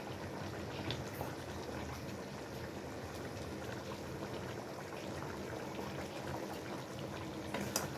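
Chicken simmering in a pot on the stove, a steady soft bubbling and rolling boil that continues evenly throughout with no talking.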